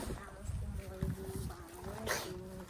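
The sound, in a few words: child sneezing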